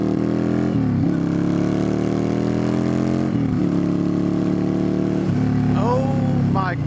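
A 1985 Yamaha XV1000 Virago V-twin motorcycle engine drones steadily while riding, with pitch dropping and rising through gear changes over wind noise. Loud and close, with a voice briefly heard near the end.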